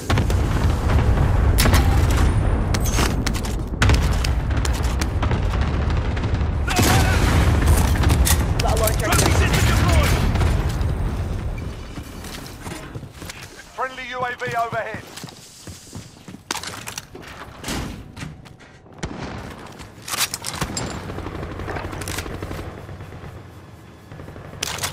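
Warzone match on Rebirth Island, where heavy gunfire and booming airstrike explosions rumble loudly for the first half, then thin into scattered shots and bursts, with voices shouting over the combat.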